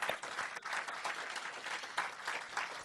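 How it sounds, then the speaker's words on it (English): An audience gives a round of applause at the launch of the linkage between Singapore's PayNow and India's UPI real-time payment systems, a sustained wash of many hands clapping that stays fairly even and moderately distant. "How about a big round of applause for this massive feat?"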